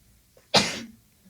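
A single sharp sneeze bursts out abruptly after a quiet moment, brief and close to the microphone, with no talking during it.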